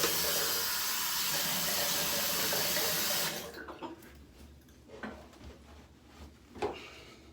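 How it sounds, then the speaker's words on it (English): Tap water running into a sink while a shaving razor is rinsed, a steady loud hiss that cuts off after about three seconds, followed by softer splashes and drips as water is splashed onto a face. "I'm gonna go ahead and splash some more water on my face after rinsing out the razor."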